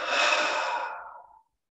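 A person takes a double inhale during a guided breathing exercise. It is one close, breathy intake that rises and then tapers off with no talk over it.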